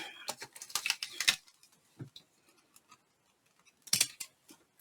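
Scissors snipping through fabric on a book used as a cutting surface, a quick cluster of close crisp cuts followed by quieter handling and another short burst of snips.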